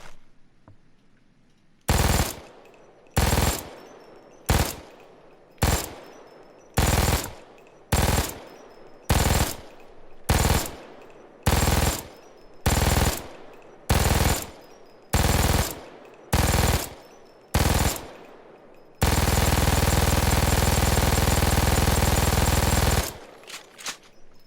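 An MG-42 machine gun in Payday 2 fires a string of short, loud, roaring bursts at a very high rate, about fifteen in a row. A longer continuous burst follows, close and dominant, with no talk over it.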